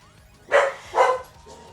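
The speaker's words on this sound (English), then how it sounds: "And that's Reagan barking. He's so excited too." Two sharp, close dog barks in quick succession, followed by a softer short yip.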